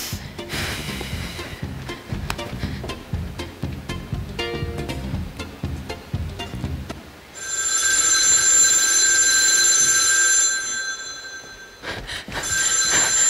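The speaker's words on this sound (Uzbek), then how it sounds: "Boydan beri telefon jiringlay berib, quloqni ham yedi-ku." An office telephone rings repeatedly, a loud sustained electronic ring after a stretch of clattering background noise, then a brief pause before it starts again; no talk.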